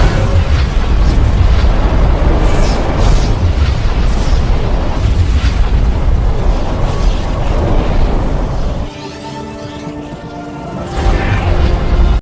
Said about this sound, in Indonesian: terjadi ledakan yang sangat dahsyat